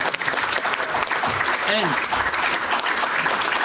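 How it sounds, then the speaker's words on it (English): An audience at a finance panel on tokenization of securities breaks into sustained applause, a dense steady clatter of many hands, with a brief spoken word near the start. "please join me in a round of applause for this wonderful blend of people"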